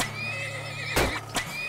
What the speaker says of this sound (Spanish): Vamos a poner unos caballos.